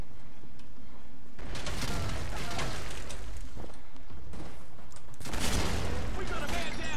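Gunfire and a grenade explosion from the PC shooter game Arctic Combat, heard as dense, loud bursts of rapid shots and booms that come in waves across the clip, with a voice speaking briefly amid the noise.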